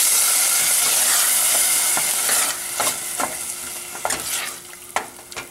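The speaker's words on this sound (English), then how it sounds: "I have here 2 small tomatoes that I went ahead and pureed. I'm going to give it a stir." Pureed tomatoes hit a hot cooking pot with a loud, bright sizzle that fades as a spoon stirs through, leaving soft scraping strokes and bubbling.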